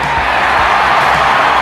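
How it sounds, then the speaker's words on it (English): A baseball stadium crowd roars as a sound effect in a St. Louis Cardinals radio ad, a steady dense wash of cheering that holds at an even loudness throughout. "the roar of the crowd"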